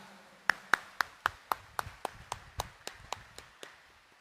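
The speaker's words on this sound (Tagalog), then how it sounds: "itaas nga ang kamay at pumalakpak ng mas malakas" During a New Year's Eve homily, a congregation claps in a crisp, evenly spaced rhythm of about fifteen beats, fairly faint and slowly fading, with no talk over it.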